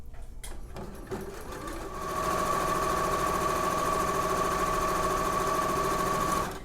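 A sewing machine stitches a rolled hem on linen, starting with a few clicks and light handling, then running at a steady fast hum and whir close by until it stops.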